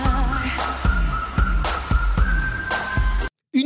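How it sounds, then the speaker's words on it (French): A bright whistled melody line rides over a pulsing music track with a steady beat in a Eurovision song, ending abruptly in a short silence. "Un petit sifflotis pour un gimmick qui reste bien en tête."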